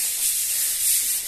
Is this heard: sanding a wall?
yes